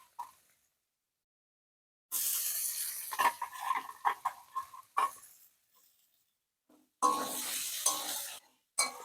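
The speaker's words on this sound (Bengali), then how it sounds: "পেঁয়াজ একটু হালকা ভেজে নেব।" Chopped onion fries lightly in a pan in loud bursts of sizzling, with stirring clatter and short quiet gaps between the bursts.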